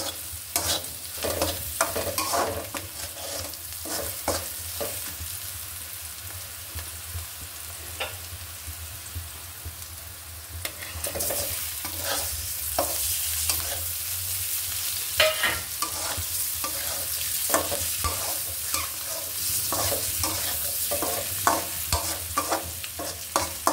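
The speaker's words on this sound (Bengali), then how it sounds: "এখন আমি ডিমটা দিয়ে দিব" Egg sizzling and frying in a pan with browned, crispy fried onions and a little salt, stirred with repeated scraping strokes throughout; steady crackle with clustered utensil scrapes, no voices.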